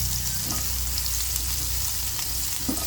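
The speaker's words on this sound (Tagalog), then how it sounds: "So, gisahin lang natin ito ng gisahin na igi." Garlic and onion sauté in a hot pan, giving a steady, close sizzling hiss with a few stirring scrapes and no talk.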